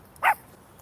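A single short bark or yip from a dog rings out clearly on a quiet street, alone and with no talk.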